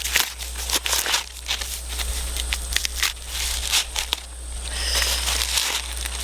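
An ear of harvested corn having its husk pulled back by hand, giving crisp papery tearing and crinkling rips in irregular bursts, close and moderately loud over a low steady hum.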